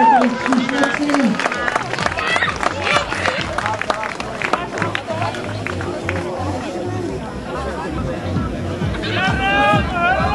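Crowd at a dragon boat race clapping and chattering steadily for a team, a dense bed of applause and hubbub throughout with people talking over it.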